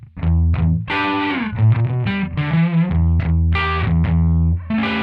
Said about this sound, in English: Long chorus.